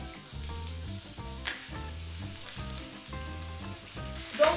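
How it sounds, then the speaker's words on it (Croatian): Thin zucchini strips sizzle in hot olive oil in a heated pan, a continuous crackling fry, close and steady, with occasional stirring clicks and light tonal music playing underneath. "Zagrijana tava, maslinovo ulje. I na to bacamo naše tikvice."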